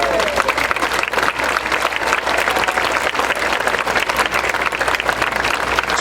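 Sustained, dense applause from a large audience at the opening ceremony of the Space Shuttle Atlantis exhibit at Kennedy Space Center, steady and loud throughout with no voices over it.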